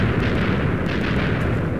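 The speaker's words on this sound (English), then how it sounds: "At least we got some fireworks." Sustained roaring blast of exploding TNT and fireworks in the Minecraft video game, a dense, continuous rumbling burst that stays loud throughout without any talking.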